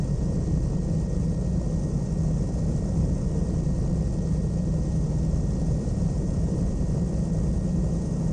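A propeller aircraft engine running steadily in Flight Sim World, a constant loud low drone with a faint tonal whine, unchanging throughout without any speech.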